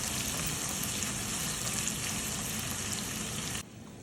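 Two cut green chilies sautéing in a pan, giving a steady, close sizzle with dense crackling throughout that drops abruptly near the end.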